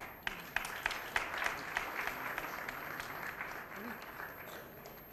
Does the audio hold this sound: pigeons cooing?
no